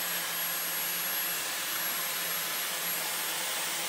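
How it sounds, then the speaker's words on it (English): A Hoover vacuum cleaner runs steadily in a continuous loud, airy roar with a faint high whine, unbroken and alone with no voices, in a room where someone is trying to suck up a dangerous spider. "Turn the Hoover on first."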